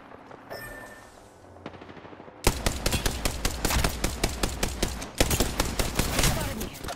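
Rapid automatic gunfire from the video game Apex Legends, loud and close, firing in a dense burst of repeated shots after a quieter opening, pausing briefly before resuming with another fast stream of rounds.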